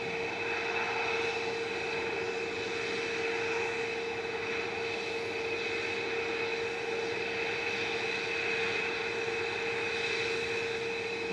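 A plane taking off at Manchester Airport gives a steady, loud jet engine roar that holds without a break and drowns out everything else, with no talking.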